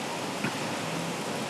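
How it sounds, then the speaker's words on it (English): Light rain falling in a steady, faint hiss that stays even throughout, with one brief soft knock partway through and no voices. "Oh, it's raining."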